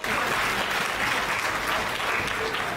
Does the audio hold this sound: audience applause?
yes